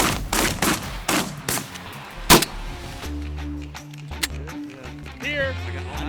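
Shotgun blasts ring out during a mallard duck hunt in Alberta, several sharp, loud reports in quick succession followed by a single closer shot, then a low engine rumble and excited voices in the background.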